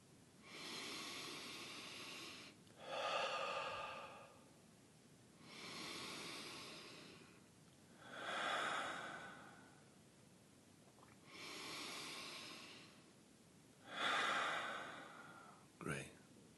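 Slow deep breathing during a live-streamed guided meditation exercise: long airy inhales and exhales alternate steadily, six or so breaths close and clear in a quiet room, ending with a short sharp intake.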